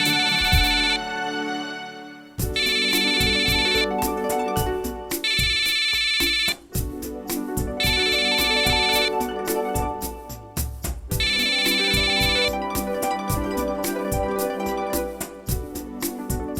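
A melodic phone ringtone plays loudly and continuously, its electronic tones repeating in bursts with a steady rhythmic pattern.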